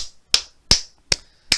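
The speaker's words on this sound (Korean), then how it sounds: "일단 박수부터 쳐야 돼요" Four sharp, evenly spaced hand claps or snaps ring out close and alone in a quiet room, each crisp and short.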